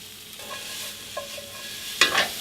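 Mushrooms with salt and sugar caramelizing in a hot pan, a soft steady sizzle broken by a couple of light stirring taps and a sharper scrape near the end, close with no voices.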